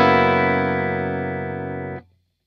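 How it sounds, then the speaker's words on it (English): A clean electric guitar tone through a three-channel amplifier, a sustained strummed chord ringing steadily and close for about two seconds before being cut off abruptly, with no talking. "So right now I just have like a basic clean sound."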